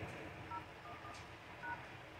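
Soft telephone keypad tones from a Microsoft Surface Duo dialer, a few short beeps heard faintly over a low background hum.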